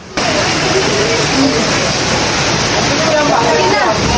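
Water flowing steadily at a resort, a loud continuous rushing wash like a waterfall or strong stream, close and unbroken with no talk.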